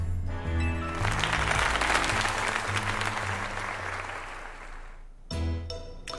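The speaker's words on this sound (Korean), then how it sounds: "진심을 담은 박수를 보내주세요." Crowd applause in the video game Pokémon Legends Z-A, a dense burst of clapping that rises quickly, holds for several seconds and fades out, set against game music and followed by a short speaking voice.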